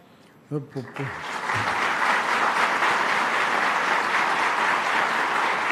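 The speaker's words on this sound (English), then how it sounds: "you should only give me an applause" A brief spoken phrase gives way to an industry meeting audience breaking into sustained, loud applause that fills the rest of the clip.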